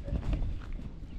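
Horse hooves clip-clop in a steady walking rhythm on the ground, fairly close and moderately loud, with some low background rumble and no talking.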